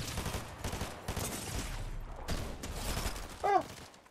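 Rapid bursts of gunfire in a Fortnite match, clustered volleys that stop and start across the moment, with a sharper mechanical crack near the end.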